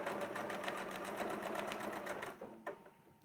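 A sewing machine stitches a quilt along a Westalee template with a fast, steady needle chatter for about two seconds, then slows and stops, followed by a couple of small clicks, close up and without speech.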